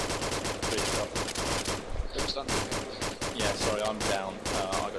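Rapid automatic gunfire in the Arma 2 military game rattles in dense, continuous bursts, some shots nearer and sharper, with voices talking over the shooting throughout.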